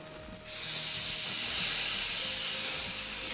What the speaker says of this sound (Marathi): आता शेवटी टाकूया टोमॅटो